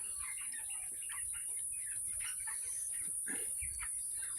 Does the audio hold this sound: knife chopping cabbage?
no